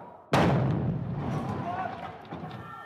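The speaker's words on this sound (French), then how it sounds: "On entend l'explosion, on entend les débris et tout." Explosion of a suicide vest with flying debris during a terror attack: one sudden loud blast followed by a long rumbling, crackling decay with scattered impacts, and muffled voices underneath.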